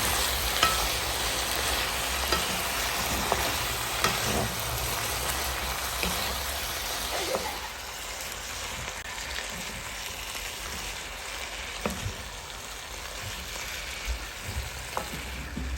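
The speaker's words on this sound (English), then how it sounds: "Once the beef is fried, we will add in our pineapple and onions, and we will stir fry them together." Beef, pineapple and onions stir-fry together in a hot pan, a loud, close, hissing sizzle that holds steady, then settles slightly softer partway through, with occasional clicks of stirring.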